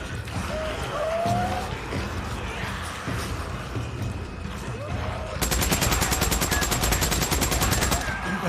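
Gunfire in Days Gone against a horde: dense, sustained shooting under loud game chaos, ending in a rapid, evenly spaced stream of shots, with a voice speaking over the noise.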